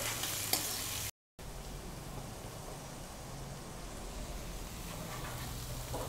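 Onions, curry leaves and seasoning frying in a pan over a medium flame, a steady close sizzle with light stirring and scraping that breaks off for a moment, then resumes.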